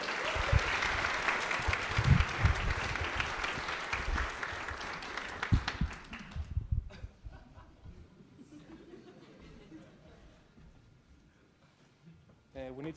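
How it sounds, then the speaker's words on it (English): An audience at a short-talks event claps loudly and continuously for several seconds with scattered laughter, then the applause fades into quieter room noise and murmuring. "So if you want to applaud,"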